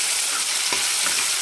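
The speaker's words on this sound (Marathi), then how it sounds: "आल्या लसणाची पेस्ट आपली छान अशी परतून झाल्यानंतर आपण याच्यामध्ये टोमॅटो टाकलेला आहे" Tomato frying in oil with ginger-garlic paste, a steady close sizzle throughout with a faint stirring scrape partway through.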